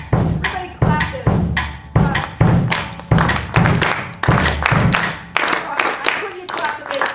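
Audience at a percussion talk clapping a bass-part rhythm together, sharp unison hand claps in a repeating pulse of groups, loud and close, with a few voices in between.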